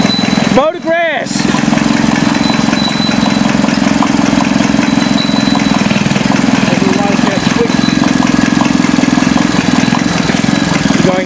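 A 1962 Moto Mower lawn tractor engine idling loudly and steadily close by, a low even rumble that runs throughout with a brief dip near the start. Someone talks over it.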